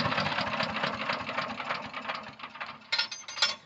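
A Harbor Freight 6.5 hp chipper shredder's small gas engine runs at a rough, rapid idle, its dense chugging fairly close and steady, fluttering a little toward the end.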